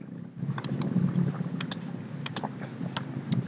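Fingers type on a computer keyboard, keys clicking in quick irregular bursts close by against a steady low room hum.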